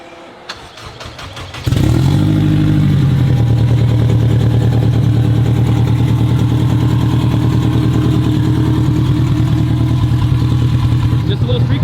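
A turbocharged Honda Civic with a Stage 2 cam and ET Street R 225/50R15 tires cranks and fires up, then settles into a steady, loud, fairly mild idle that runs alone after the start.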